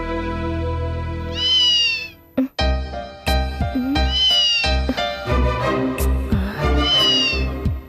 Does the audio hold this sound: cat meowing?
yes